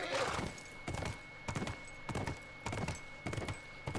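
A horse's hooves clip-clop in The Last of Us, sharp evenly spaced footfalls at a trotting pace, close and distinct against a quiet background.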